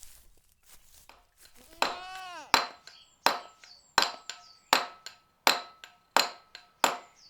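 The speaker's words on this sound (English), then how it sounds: "All you need is a hammer and a chisel and a piece of stone" Hammer blows on a chisel cutting into stone, a steady series of sharp, ringing metallic strikes about every two-thirds of a second after a few lighter taps, close and clear with no talk.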